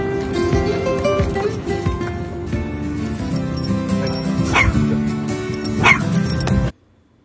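Small dogs bark and yip excitedly in repeated bursts, with whimpers mixed in, fairly loud and close, until the sound cuts off abruptly near the end.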